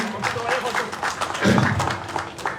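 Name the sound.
crowd applause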